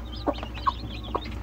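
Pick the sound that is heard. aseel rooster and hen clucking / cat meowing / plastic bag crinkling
aseel rooster and hen clucking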